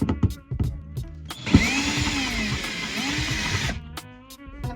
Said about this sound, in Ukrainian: Відкрутити оцю табличку.